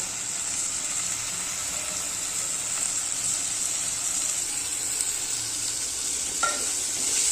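Mixed vegetables stir-fried in oil over a low flame produce a continuous, even sizzle and hiss, with an occasional faint clink of a spoon against the pan.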